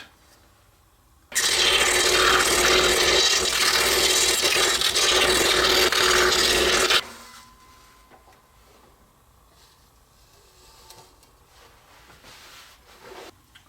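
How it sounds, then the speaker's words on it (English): A scroll saw fitted with a number 2 reverse tooth blade cuts through wood in one loud, steady buzzing run of about five seconds, then stops, leaving quiet room tone behind. "we're going to take it over to the scroll saw, and using that very same number 2 reverse tooth blade, we're going to cut this out."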